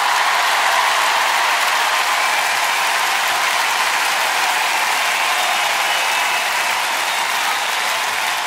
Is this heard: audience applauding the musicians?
yes